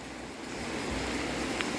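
Steady, dense roar of water rushing through the Kaeng Saphue rapids during heavy continuous rain, a constant broadband wash with no speech.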